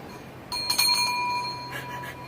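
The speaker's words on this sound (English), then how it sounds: "Can I ring that bell?" A small bell rings clearly with a bright metallic ting followed by a second, softer strike, each leaving a short ringing decay in an otherwise quiet room.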